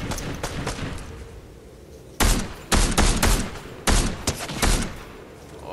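Bursts of gunfire in the video game Fortnite, with several loud, rapid volleys coming in clustered groups after a quieter stretch of background game noise.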